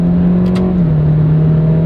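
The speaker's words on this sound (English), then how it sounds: "let me just get a quick little sport pull in, if you will." BMW 328i pulling hard up a highway on-ramp, a loud steady engine drone rising slightly in pitch across the short burst, continuous and close with no talk over it.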